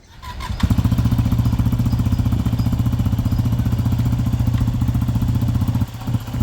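A motorcycle engine on a Romanian adventure ride starts up and holds a steady, loud, chugging drone, pulling away close by with a slight dip near the end.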